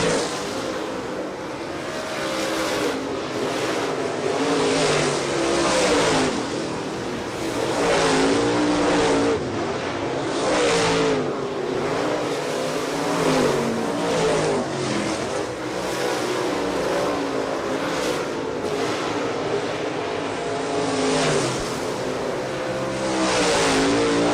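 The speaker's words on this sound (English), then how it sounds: "drivers right now getting the opportunity to shake the cars down in preparation for the 5th annual Mark Batten Memorial here at County Line Raceway, and hot laps are underway" Dirt late model race cars running hot laps at County Line Raceway, a continuous loud roar of engines rising and falling as cars sweep past, with no talk over it.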